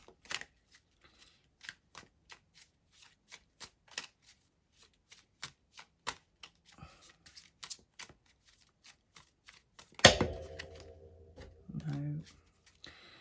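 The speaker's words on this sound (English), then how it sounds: "We just shuffle them again." Tarot cards being shuffled by hand: a long run of crisp, evenly spaced card flicks and taps, close and fairly quiet, ending in a louder riffle and shuffle with a brief low voice at the end.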